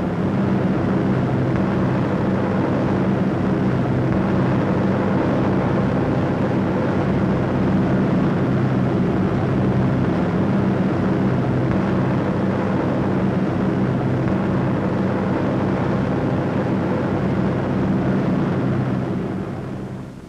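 B-17 Flying Fortress bombers flying in formation make a steady, dense roar of piston engines that holds level and unbroken throughout, with no voices.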